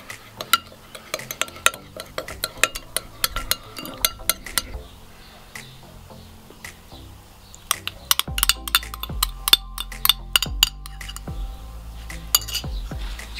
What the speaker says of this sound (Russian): Теперь хорошенечко это все перемешиваем.